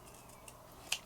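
Scissors cut card for a handmade Halloween and Christmas card. One soft, close snip stands out near the end against a faint room background.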